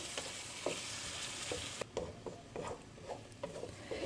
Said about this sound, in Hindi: अब इसमें हम चिकन डाल देंगे। अब हम इसको मीडियम फ्लेम पे पकाएंगे।